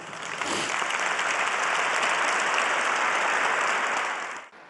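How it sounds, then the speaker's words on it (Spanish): A large crowd in the Vatican's Paul VI audience hall applauds the Pope: dense, sustained clapping that swells quickly, holds steady for several seconds, then cuts off. "lo recibieron con muchos aplausos"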